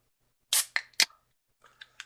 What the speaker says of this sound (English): That was a can of soda.